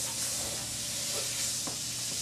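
Two tablespoons of butter melt in a hot pan, giving a steady, close sizzle and hiss with faint crackles throughout, no voices.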